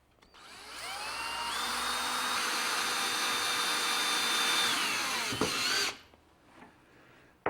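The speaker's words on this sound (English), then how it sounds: "I've set up my pocket screw jig to drill the pockets for the screws" A power drill whines steadily for several seconds in a pocket screw jig, its pitch rising and holding as it bores pocket holes in a wooden face frame, then winds down to quiet with faint clatter.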